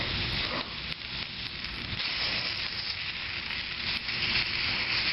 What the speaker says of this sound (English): here it's starting to sizzle up